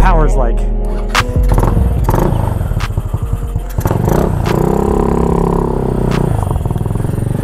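GY6-powered Honda Ruckus scooter on a test ride with a 32 pilot jet, 105 main jet and open exhaust, its engine revving loudly up and down with clatter and rattle, close and continuous throughout.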